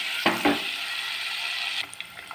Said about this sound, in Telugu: ఇప్పుడు ఈ గుడ్లని వేపుకున్నాం ఏడుగుడ్లకి పసుపు వేసుకున్నామండి